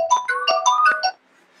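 A phone plays a bright, melodic ringtone for an incoming video call, with a quick run of chiming electronic notes that cuts off after about a second.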